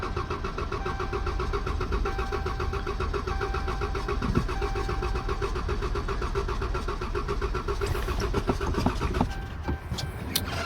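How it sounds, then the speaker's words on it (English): A 2012 Chrysler 300 with a newly replaced fuel pump cranks and runs with a steady, close engine drone that continues throughout, with a few faint clicks near the end. "Let's see if she starts."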